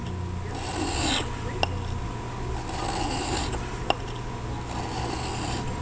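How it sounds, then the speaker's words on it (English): Steel tool bit edge rubbed back and forth on a sharpening stone, a steady close rasping scrape in repeated strokes with two sharp clicks along the way. "That's what we're doing there with that honing."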